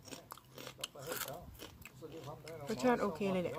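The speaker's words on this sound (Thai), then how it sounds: "แคบหมูนอร์เวย์นะคะเคยรีวิวไปแล้วนะคะ กรอบมาก" Crisp Norwegian pork rinds are crunched and chewed in a few close, sharp bites while someone talks over them.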